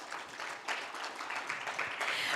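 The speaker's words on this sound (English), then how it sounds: "can we welcome him again with a huge round of applause" Audience applause welcoming a former Supreme Court of India judge as chief guest at an awards ceremony, a faint, steady wash of many hands clapping at a distance, with no voices over it.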